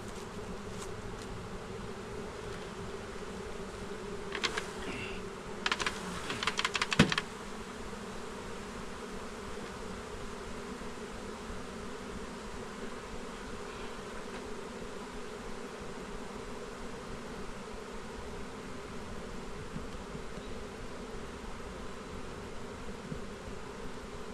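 Honey bees swarm around a new HiveIQ beehive, a dense steady buzzing drone running throughout, with brief nearby knocks and handling clatter early on and no voices.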